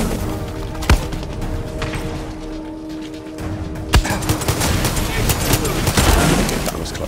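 Gunfire in the video game Far Cry 6, in the Pagan Min Control DLC: sharp single shots crack out at intervals over a busy game soundtrack, and a voice talks throughout.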